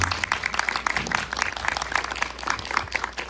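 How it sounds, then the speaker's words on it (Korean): A film screening audience at a Korean Q&A session applauds, a dense, continuous patter of many hands at close to moderate distance, steady throughout with a faint low hum underneath and no speech. "여러분 박수 한번 부탁드립니다."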